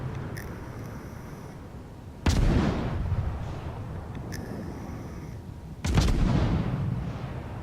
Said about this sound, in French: Et ils tirent d'une manière occasionnelle sur les ennemis.